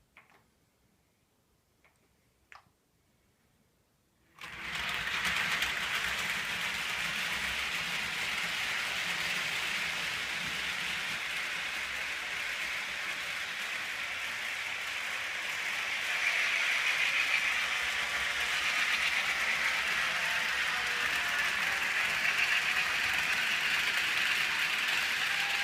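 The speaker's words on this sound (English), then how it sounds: "bringing this train on out. I'll give it a run around the track" An HO scale model train runs around a 4x8 layout. A few faint clicks are followed by a sudden steady whirring rush that holds for the rest of the run and swells slightly near the end.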